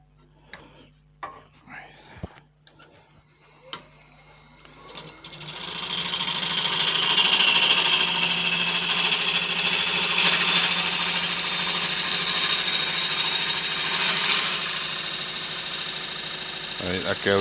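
Wood lathe spinning a Balinese teak winged vase blank while a blunt gouge cuts, first with a few sharp knocks and ticks, then a steady loud whirring rush of cutting that continues to the end.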